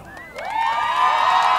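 Crowd of supporters at a traditionalist gaucho cultural rodeo event cheering, a swelling chorus of voices and whoops that rises after a brief lull and holds steady and loud.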